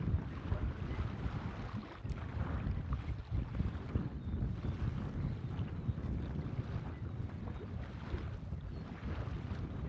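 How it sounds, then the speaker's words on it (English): Strong wind buffets the microphone out on a lake while fishing, a constant low rumbling roar with gusty swells and faint water sounds beneath, no voices. "Wind needs to change direction."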